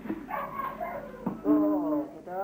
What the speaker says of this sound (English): Oh, the dog barking.